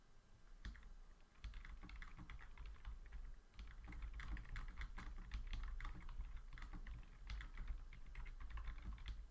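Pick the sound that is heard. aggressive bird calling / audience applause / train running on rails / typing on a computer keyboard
typing on a computer keyboard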